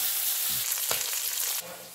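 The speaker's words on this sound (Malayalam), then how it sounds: "രണ്ട് ഭാഗവും നന്നായിട്ട് മുരിച്ചെടുക്കാം" Pieces of pethal fish fry in a pan with a continuous close crackling sizzle. The frying dips slightly toward the end, and no one speaks.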